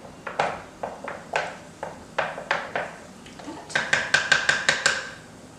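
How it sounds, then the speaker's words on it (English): A wooden spoon clinks and knocks against a pitcher while stirring limeade, a run of close, bright taps, irregular at first, then a quicker, even rhythm toward the end. "So you can just stir the limeade up really good."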